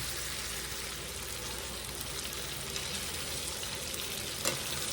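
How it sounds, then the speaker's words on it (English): Onions cooking with bottled barbecue sauce in a skillet give a steady, close sizzle with soft stirring scrapes and one brief clack near the end, no talking. "all this time, them onions are steadily cooking in there"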